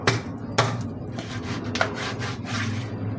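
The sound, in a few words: knife cutting a cleaned tilapia fish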